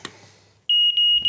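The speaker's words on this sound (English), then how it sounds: "What we'll do is we're going to replace that smoke alarm." A household smoke alarm being tested after replacement gives a loud, piercing electronic tone that starts abruptly and sounds in a few close pulses.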